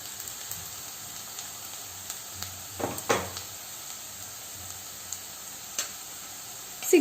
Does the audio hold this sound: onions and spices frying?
yes